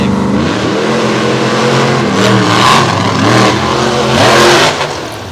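Two drag race cars run side by side in a semifinal round, engines roaring loud and continuous with rising and falling revs across the pass, close and dominant.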